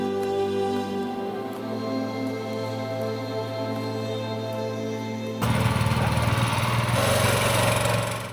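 A trawler boat's engine runs with a steady low chugging drone and droning harmonics, then turns louder and rougher partway through as the throttle opens, continuing without talk.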